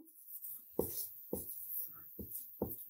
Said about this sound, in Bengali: আমরা এই ইতিপূর্বে বানান লিখব